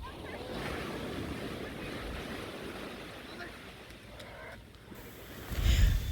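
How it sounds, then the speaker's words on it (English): Ocean waves wash onto a beach with a steady rushing roar of surf, a little wind buffeting the microphone, and a heavier crash swelling near the end. "The thunderous sound of the ocean."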